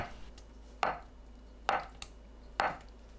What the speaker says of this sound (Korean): 두부는 한입 크기로 썰어주세요